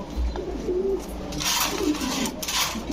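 Pigeons at a pigeon sale, including red beauty pigeons, give low soft coos in repeated bursts amid steady market background noise, with no clear talk.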